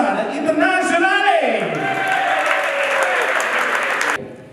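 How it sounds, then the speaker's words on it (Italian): A crowd applauds loudly to welcome the Inter U18 football squad at a youth tournament in Bali, Indonesia, with steady clapping and a few whoops and raised voices over about four seconds before it cuts off abruptly. "I want to say welcome and a round of applause for Club from Italia"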